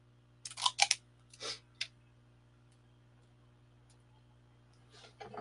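Plastic is peeled off the edge of a puppet part in a few short, sharp crinkling snaps and clicks clustered early on, followed by near-quiet with a faint hum and a last rustle at the end.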